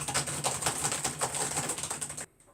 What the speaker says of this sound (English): He does a lot of typing.